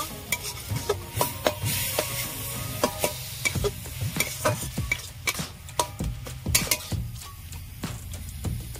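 A thick papaya sandesh mixture is stirred in a pan for a Saraswati Puja sweet, with a steady run of scraping spoon strokes and soft clicks over a faint sizzle, close and continuous.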